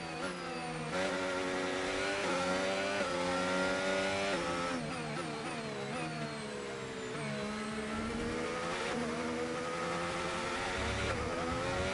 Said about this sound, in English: Sainz has just overtaken Albon.